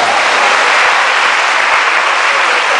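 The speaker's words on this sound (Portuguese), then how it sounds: "Dá um aplauso só para incentivar." Dense, loud applause from a church congregation, an even wash of many hands clapping close by with no talk over it.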